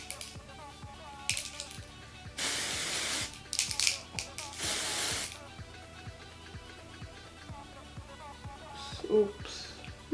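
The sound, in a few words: spraying airbrush foundation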